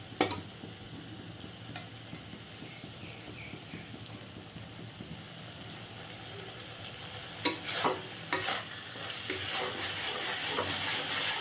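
Spice paste for tel koi fish curry sizzles softly in a pan, with scraping stirs and occasional ticks against the metal, growing louder and busier toward the end; no one speaks.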